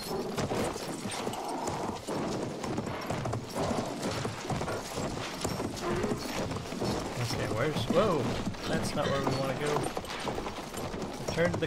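Horse hooves clip-clop in a steady, rapid rhythm in Battlefield 1, up close and continuous, with other game sounds and a voice now and then mixed in.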